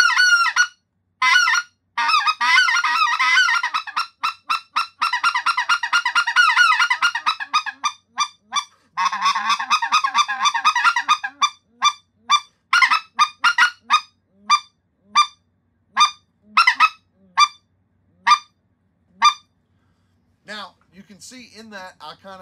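A specklebelly goose call blown in a three-note drag, a rapid run of sharp honking notes, then a string of short, evenly spaced double clucks, close and loud with no other sounds.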